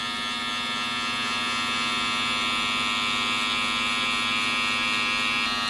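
Electric hair clippers buzz steadily and close up while cutting a mid fade, a constant droning hum with no breaks and no talking.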